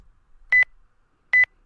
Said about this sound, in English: The abrupt ringing of my cell phone tears me away from my thoughts of laziness.